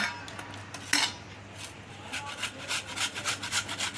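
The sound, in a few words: grating peeled potatoes on a grater for aloo pakora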